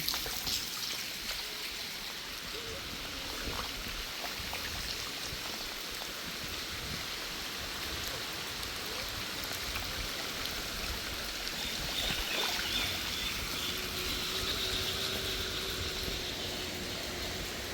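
Steady rain pours down in the village of Kotla Heran during the rainy season, a dense unbroken hiss of falling water that stays even throughout with no voices.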